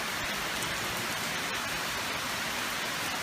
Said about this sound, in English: It was raining heavy like this last night when we went to bed. And it's still bloody raining.